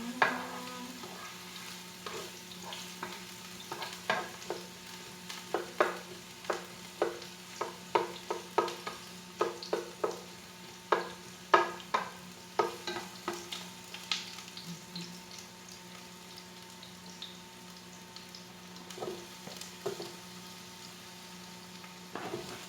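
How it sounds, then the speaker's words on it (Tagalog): Ginger sizzles and browns in a hot pan for Bicol express, a steady frying hiss broken by frequent sharp utensil taps and scrapes against the pan, close and moderately loud with no talking. "Yung luya muna po habang siya ay nagba-brown pa ng konti."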